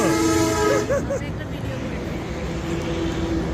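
Vehicle horns blare on the busy Dhaka-Chittagong highway, with a long tonal honk at the start and another later, over rumbling traffic noise.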